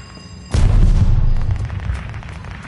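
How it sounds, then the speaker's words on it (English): A sticky bomb detonates in a video game battle: a sudden loud boom bursts in after half a second of quiet, then rumbles and decays with crackling debris. "They tossed a sticky bomb!"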